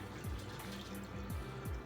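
Water pours into a tub in a home fish room used for breeding bristlenose plecos, a soft continuous running and splashing with gurgling pulses, quiet and close, no voices.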